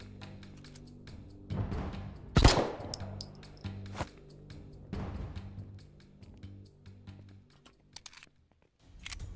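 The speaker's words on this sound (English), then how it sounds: "We can probably just kill them, right, with a gun." Gunfire in the video game Potentia, scattered shots and bursts with one loud sharp crack, separated by quieter pauses and small clicks.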